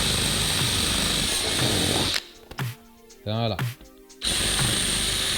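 A power drill bores holes at the ends of a crack in a car bumper, whining loudly and continuously, then pausing while a person speaks briefly and the drill gives short bursts before running steadily again.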